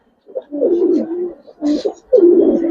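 Gribaz coloring pigeons cooing inside a loft, loud and close, with several throaty rolling coos in succession and short pauses between them.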